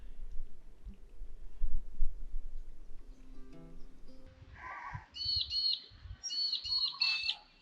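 Birds call at sunrise on the banks of the Darling River near Lake Menindee. Soft rustling comes first, then bright, repeated chirps and trills build up in quick clusters, fairly close and clear.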